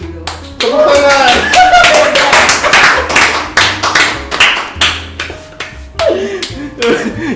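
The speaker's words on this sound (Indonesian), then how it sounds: "Tepuk tangan!" Clapping breaks out during a podcast conversation, a run of sharp, closely spaced hand claps heard close up, with voices talking and laughing over and between them.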